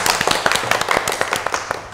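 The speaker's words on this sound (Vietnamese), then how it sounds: "Cho anh em xin một tràng pháo tay cái." A small group claps and cheers for freshly poured, ice-cold draft Camel beer straight from the tap, with quick scattered hand claps, close and lively, and brief voices mixed in.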